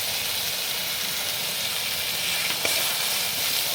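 Spice masala sizzling in hot oil for a spicy Bengali tangra fish curry, a steady close hiss of frying with no talk over it.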